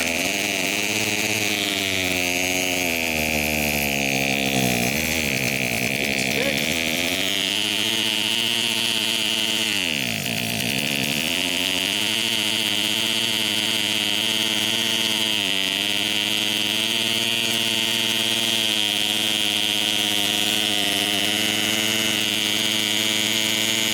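A RedMax CHTZ2460 two-stroke hedge trimmer engine roars at full throttle, a loud raspy buzz that surges and sags unevenly as it struggles to stay running cold, continuous and close.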